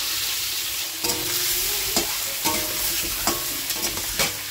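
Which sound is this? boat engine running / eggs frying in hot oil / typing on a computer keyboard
eggs frying in hot oil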